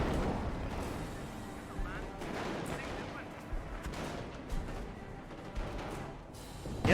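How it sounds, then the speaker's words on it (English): An artillery barrage in Company of Heroes, distant thuds and crumping impacts repeating irregularly over a steady battlefield din, fairly quiet, with a commentator talking over it. "He has gone for an actual barrage somewhere."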